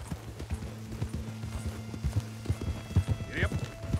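A horse in Red Dead Redemption 2 trots with steady, close hoofbeats and a brief snort, running under background voices and game music.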